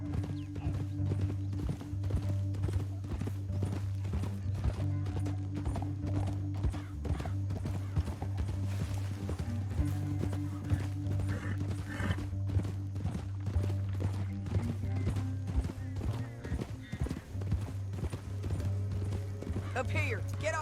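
Horses gallop in Red Dead Redemption 2 in a continuous rhythmic clatter of hooves over a steady low musical drone, with brief snorts and mechanical clinks mixed in.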